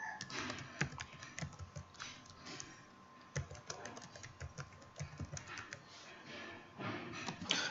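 Password being typed on a computer keyboard while setting up Windows Server 2012: a steady run of quick key clicks with a few heavier strokes, close and fairly quiet, no talking.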